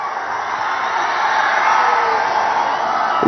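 A crowd cheers and shouts at a political rally in Tadipatri, Andhra Pradesh, forming a dense, steady roar of many voices that swells slightly toward the end.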